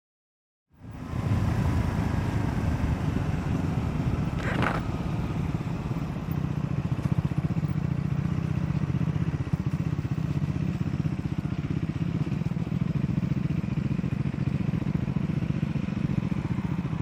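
A Triumph Scrambler 400X motorcycle engine drones steadily while riding on a mountain pass road, with a loud, continuous low rumble and rushing wind noise that holds throughout with no talking.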